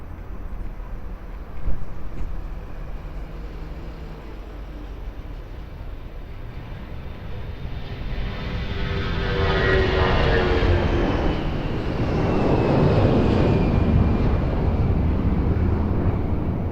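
An airliner taking off from runway 02 at Lisbon Airport, its engine roar swelling from a distant rumble into a loud, sustained broadband thrust with a faint whine sliding across it, no voices.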